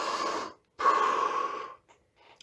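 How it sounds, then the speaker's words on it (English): Two long, deep breaths drawn through the mouth in preparation for plunging the face into ice water, each a loud, close, rushing exhale separated by a short pause, followed by faint softer breaths. "Take 5, you can take 5 to 10 like breaths"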